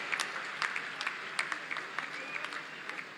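Steady crowd applause for India's women hockey medal winners, a continuous patter of many hands at moderate distance with a few sharper claps standing out.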